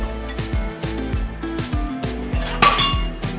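A metal spoon stirs curd into milk in a pot, scraping and clinking against the sides in a quick repeating rhythm, close and clear with no talk.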